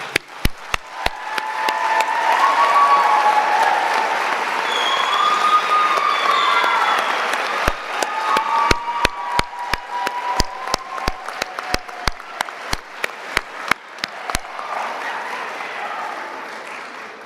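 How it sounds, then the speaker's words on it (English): Graduates, faculty, family and friends applauding at a university convocation ceremony, a large crowd's sustained clapping with scattered cheers and whoops, loud and continuous, thinning into distinct individual claps toward the end. "Graduates, a round of applause, please."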